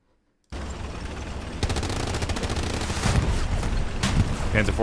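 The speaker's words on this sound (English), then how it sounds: "Panzer 4 takes a couple of rockets." Rocket impacts and heavy gunfire hit a Panzer IV tank during a large competitive Hell Let Loose battle on Utah Beach, a dense, continuous barrage of blasts and rattling shots after a brief silence.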